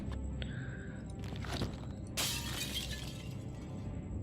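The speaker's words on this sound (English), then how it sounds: "With a crash, the mirror shatters." A mirror shatters with a loud crash in the Shadowgate remake video game, a sudden burst of breaking glass after a few softer knocks, followed by tinkling debris over a steady background hum.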